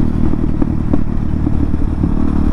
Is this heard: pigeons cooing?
no